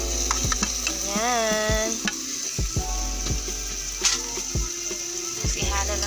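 Beefloaf and egg fry in a pan, a continuous sizzle broken by repeated scraping stirs of a utensil, with a brief spoken word and a faint whistling tone in the background.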